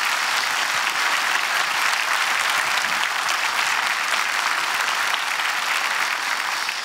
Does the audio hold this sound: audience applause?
yes